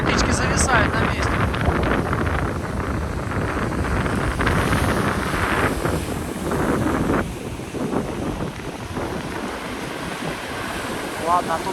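Strong wind roars steadily across a seashore at Lazarevskoye with surf beneath it, a dense continuous rush with no pauses. Brief voices come through near the start.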